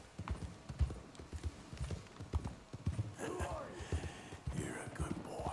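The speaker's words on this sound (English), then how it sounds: "Trying to calm this horse down." Horse hooves clip-clopping at a steady walking rhythm in Red Dead Redemption 2, close and clear, with faint whispery voices and game ambience joining in the latter half.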